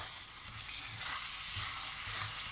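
Curry paste with tomato and garlic frying in a pan for a village-style curry, giving a continuous close sizzle and hiss with faint stirring bumps, no voices.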